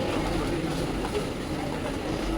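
Steady low rumble of a Chennai Metro train, a continuous broadband roar with no clear breaks, moderately loud throughout.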